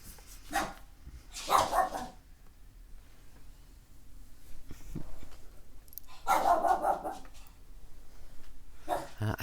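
A dog barks in a few separate loud bursts, with quieter sounds between them and someone talking at times.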